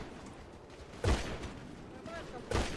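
Gunfire in a multiplayer shooter video game, two sharp booming shots about one and a half seconds apart over a noisy background, moderately loud.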